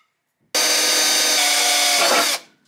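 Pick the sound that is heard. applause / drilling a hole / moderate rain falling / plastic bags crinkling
drilling a hole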